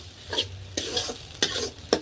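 Ground spices with cumin and coriander powder fried in a pan for a saak paneer dish, giving a soft sizzle with several distinct stirring scrapes at close range, no talking.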